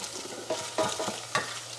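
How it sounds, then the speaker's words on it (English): Rhubarb frying in a hot pan, sizzling steadily close by with a few sharper crackles and scrapes as it is stirred and starts to caramelise, no talking. "Got a good sizzle to it. Starting to caramelise at the bottom."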